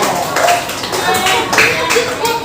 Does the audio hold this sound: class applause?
yes